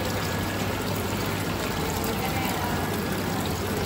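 Steady, continuous rush of water pouring down a homemade decorative waterfall built for a Ganpati festival display at home, constant and fairly close with no pauses.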